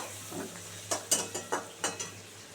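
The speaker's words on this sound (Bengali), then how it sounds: "পেঁয়াজ ভালো করে লাল করে ভাজা হয়ে গেল" Onions fry in a pan for a tangra fish jhal, with about six quick, rhythmic spatula scrapes over a soft, steady sizzle close by and no talking.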